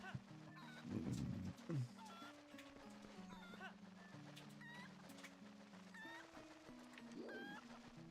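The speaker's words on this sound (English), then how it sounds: "How refreshing to see a chicken on this game, a Kuko that doesn't just like immediately start running all over the place" A Golden Cucco chicken clucks in Zelda: Twilight Princess, with bursts of clucking near the start and again near the end, set against a steady game backdrop of tonal chirps and music.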